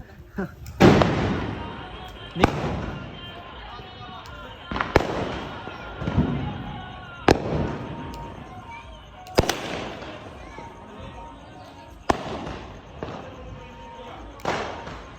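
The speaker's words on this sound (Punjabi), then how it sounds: "ਦੋ ਚਾਰ ਪਟਾਕੇ ਚਲਾ ਲੇ" Diwali firecrackers and fireworks go off at home in a string of about ten sharp, loud bangs a second or two apart, each ringing out briefly, with faint voices in the gaps.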